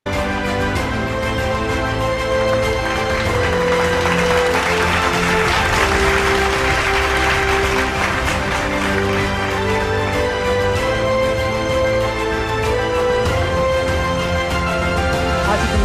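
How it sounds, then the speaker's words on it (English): An audience at a corporate awards ceremony applauds an awardee, sustained clapping swelling and fading over loud background music that plays throughout. "let's have a huge round of applause for our final awardee this evening"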